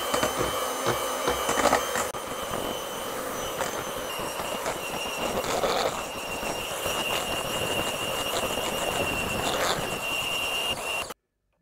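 Electric mixer beating cookie dough for ginger nut cookies just after a cup of flour goes in, a steady whirring drone with a metallic squeal that holds for about eleven seconds, close, then stops abruptly.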